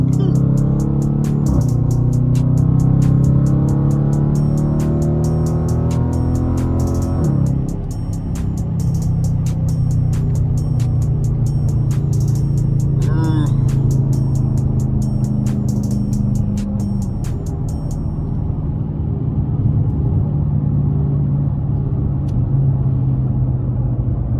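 A loud 5.7-litre Dodge Challenger R/T drives through morning traffic, its engine rumbling steadily with revs that rise and shift, holding a deep low drone from start to finish.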